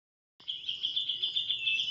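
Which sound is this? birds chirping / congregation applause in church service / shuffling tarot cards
birds chirping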